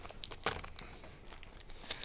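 A Future Card Buddyfight booster pack is torn open with crinkling, tearing foil wrapper sounds in short bursts, close and fairly quiet.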